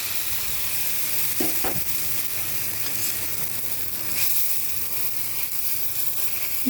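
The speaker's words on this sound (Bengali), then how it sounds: "এই তেলের ভিতরে যে আমি মটর ডালটা বেটে রেখেছিলাম সেই ডালটা আমি দিয়ে দেবো প্রথমেই" Ground pea dal paste goes into hot mustard oil and fries with a constant close sizzle, with a couple of brief scrapes as it is spread in the pan.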